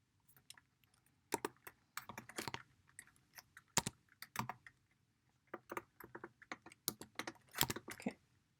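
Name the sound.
fast typing on a computer keyboard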